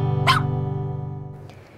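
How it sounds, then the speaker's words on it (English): A Border Collie lets out a single short bark near the start, loud and close, over a steady humming background that continues after it. "This is my 5-year-old Border Collie Grand Slam."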